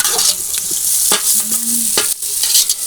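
Onions fry in a pan for kothu roti in a Jaffna village kitchen, a loud close sizzle broken by scraping stirs and metallic clinks, with no talking.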